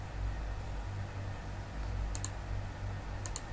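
A computer mouse gives two quick pairs of faint, crisp clicks over a steady low hum of a computer fan, with no talking.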